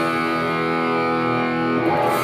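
Electric guitar played at full volume through an amp on its crunch setting, a sustained distorted chord ringing evenly and loud for about two seconds before a brief change of attack near the end.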